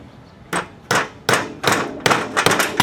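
Hammer blows on metal while shaping a part for a GS550 cafe racer motorcycle, six or seven loud, close metallic whacks in an uneven rhythm, with quicker strikes near the end.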